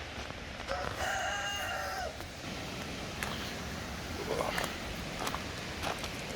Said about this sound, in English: There's 1 more rooster, 1 hen.